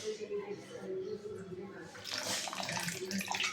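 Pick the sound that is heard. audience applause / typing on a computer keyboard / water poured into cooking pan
water poured into cooking pan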